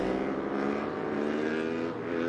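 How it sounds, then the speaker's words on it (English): A racing motorcycle engine roars at high revs as the bike lifts into a wheelie on the back straight of a Twins Cup race at Virginia, loud, steady and continuous, with no speech. "This is going to be quite a big wheelie in this little back straight."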